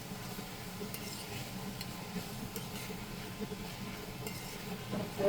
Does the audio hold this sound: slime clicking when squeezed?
no